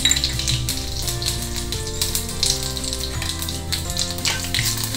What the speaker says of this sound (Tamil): அதுக்கு என்ன தாளிக்க போகிறோன்னா, கடுகு, உளுத்தம்பருப்பு, சீரகம், அப்புறம் ஒரே ஒரு வரமிளகா